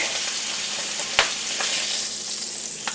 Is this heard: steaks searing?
yes